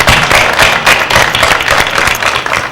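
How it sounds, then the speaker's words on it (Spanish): Loud, close audience applause at a live harp and folk song performance honoring a legendary singer, a dense, steady roar of many hands clapping throughout with no talking. "Vamos, fuerte los aplausos."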